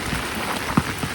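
Rain falling steadily on a rice paddy field, a dense even patter with a soft thump of a heavier drop near the end, heard alone with no voices.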